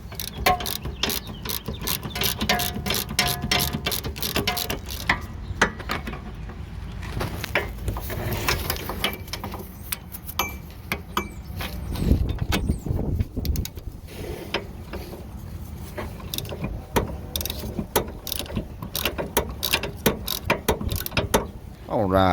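A wrench works on the rear brake caliper bolts of a 2018 Chevy Malibu, producing a long run of rapid, close ratchet clicks with short pauses, metallic clanks and a little faint background noise.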